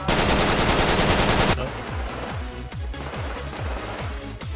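Rapid automatic gunfire in a shooter video game, loud and dense at first, then continuing as repeated punchy shots with deep thuds, all close and intense.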